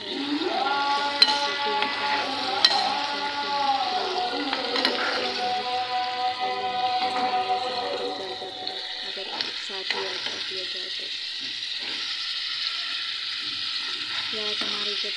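Onions frying in hot ghee, for chicken feet cooked in a hostel kitchen, give a steady close sizzle and crackle under a woman's singing or humming voice with background music that fades after a few seconds.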